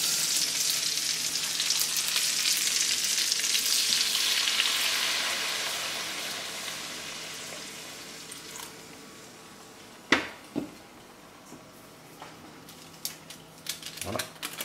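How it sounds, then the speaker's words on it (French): Small glazing onions bubble and sizzle in a pan of water with sugar and salt for a French veal blanquette, a steady hiss that fades toward a quiet simmer, then a few sharp utensil clicks and knocks near the end. "On va tout simplement laisser glacer les petits oignons."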